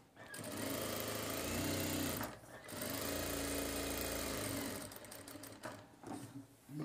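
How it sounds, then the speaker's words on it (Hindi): A sewing machine stitches a shirt collar in quiet, steady motor runs, pausing briefly twice before buzzing on, with no voices. "अब यहाँ पे सिलाई लगानी है"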